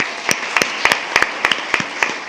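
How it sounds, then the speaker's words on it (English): A small group claps for a middle school principal at a school board meeting, with distinct, sharp hand claps in loose pairs and clusters, close and fairly loud over a soft background hiss. "please join me in a round of applause for Indio Middle School's principal, Marcia Herrera"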